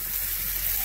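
Chicken wings sizzle on a Blackstone griddle over medium-low heat, giving a steady, even frying hiss with no breaks and no talking.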